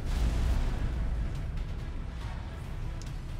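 Incoming weapons fire battering a player's ship in the space game X4 Foundations, a continuous heavy rumbling barrage of low booms and impacts, loud and dense throughout with no talk.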